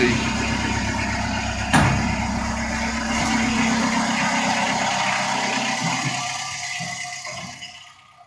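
A Mitsubishi MT-225 tractor engine runs steadily nearby with a low, even idle throughout, a brief knock near two seconds, and the sound dropping away toward the end while people talk over it.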